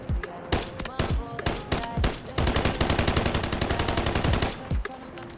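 Rapid automatic gunfire from a fast-paced modern first-person shooter game, with short bursts at first and then a sustained rattling stream of shots. The shots are loud and close, then cut off abruptly near the end.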